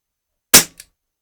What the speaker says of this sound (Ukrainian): І так, перший постріл